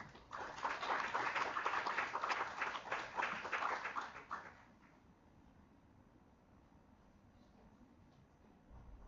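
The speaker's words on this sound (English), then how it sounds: "please everyone give a huge round of applause for team number 7, Marketing Mavericks" An audience applauds a presenting team at a corporate team event, a steady burst of clapping that lasts about four seconds and then dies away to quiet room tone.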